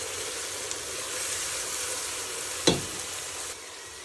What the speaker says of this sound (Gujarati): ગ્રીન કેપ્સિકમ જે ચોપ કર્યા છે, મેં આવી રીતે ચોપ કરી દીધા છે, એને આપણે નાખી દઈશું. બધું મસ્ત મિક્સ કરી થોડું પાકવા દઈશું એને